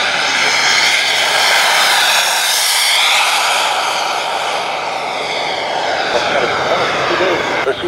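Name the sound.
radio-controlled model BAE Hawk jet aircraft flying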